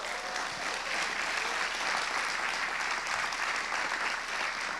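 Steady, dense applause from a congregation at an evening church service, loud and continuous throughout with no pauses.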